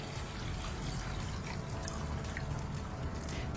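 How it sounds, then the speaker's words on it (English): Water pours into a pot of rice in a steady, quiet stream, a soft continuous rush with no talking. "so add in the water"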